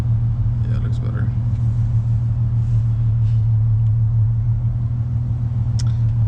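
Steady low engine rumble from inside a Nissan 350Z on the move, a constant drone with faint cabin noises over it and no talk.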